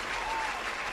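Applause sound effect played during a podcast outro, a steady wash of clapping from a crowd, loud and continuous throughout with no pause.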